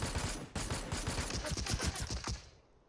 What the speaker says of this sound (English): so I take shots on him